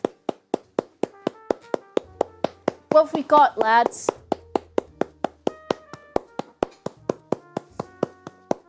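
A person clapping hands in a steady, brisk rhythm of sharp, close claps that continue throughout, with a brief spoken line breaking in midway.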